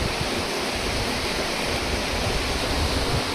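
Strong water rushes through the Gandikota tunnel in a loud, steady roar, close and continuous with no pauses and no voices.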